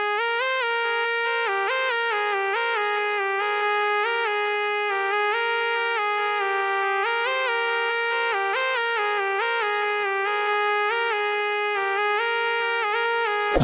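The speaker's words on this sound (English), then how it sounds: "and it's called the Simple Pulse lead," Simple Pulse synth lead from Purity rings out as a bright, buzzy, harmonically dense melody, holding steady notes with small stepwise changes throughout, loud and unaccompanied.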